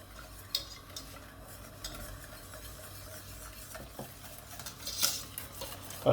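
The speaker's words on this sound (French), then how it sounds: "Allez, on remue bien." A spoon stirs macaroni gratin sauce made with hot milk in a pot, giving soft scraping and clinking against the metal with faint sizzling beneath, quiet and close, with a few sharper utensil knocks near the end.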